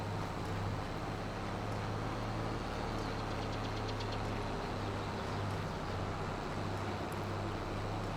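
A tractor engine in a farming video game during baling hums evenly throughout, a constant low mechanical rumble at moderate distance with no talking.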